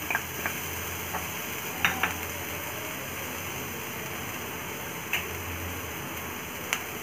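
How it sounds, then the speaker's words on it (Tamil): Onion, carrot, potato and green chillies sautéing in a pan make a soft, steady sizzle, broken by a few sharp spoon clicks against the pan. "உருளைக்கிழங்கு, பச்சை மிளகாய் இதையும் சேர்த்து நல்லா வதக்கிக்கணும்."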